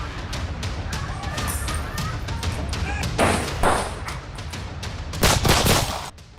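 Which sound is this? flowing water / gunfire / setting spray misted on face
gunfire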